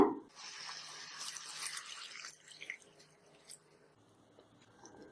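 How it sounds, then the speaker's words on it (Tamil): Water poured from a vessel into a pan of Tamil-style pepper chicken gravy, a steady close splashing and trickling that runs a couple of seconds, then fades to faint bubbling and stirring noises. "தேவையான அளவு தண்ணீர் சேர்த்துக்கோங்க."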